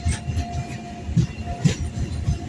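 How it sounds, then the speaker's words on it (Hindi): The Matsyagandha Express rolls between hills on the Mangalore to Barkur line, its wheels thumping in a regular clickety-clack rhythm over steady, rumbling carriage noise, heard from on board with no voices. "उस पहाड़ के बीच में से हमारी ट्रेन निकल रही है।"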